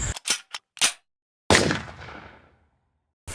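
A gun fires at a turtle outdoors: several sharp close cracks, then one loud shot with a long decaying echo, and another report at the end.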